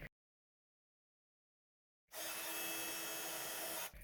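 A heat tool blowing steadily while heat embossing lettering onto pink cardstock, a loud continuous whirring hum that starts after a silent pause and runs for nearly two seconds before cutting off.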